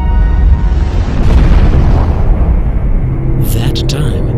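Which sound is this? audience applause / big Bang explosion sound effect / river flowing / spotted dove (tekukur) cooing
big Bang explosion sound effect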